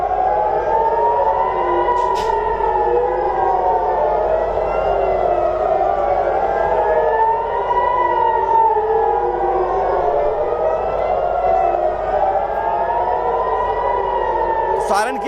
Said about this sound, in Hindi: देर रात इजराइल में फिर से मिसाइल सायरन बजे